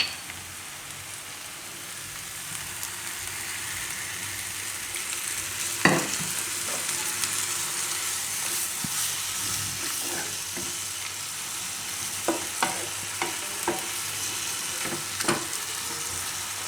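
Leftover rotli sits in a hot pan with a continuous soft sizzle, and intermittent stirring scrapes and light knocks come through, clustering later as buttermilk is poured in.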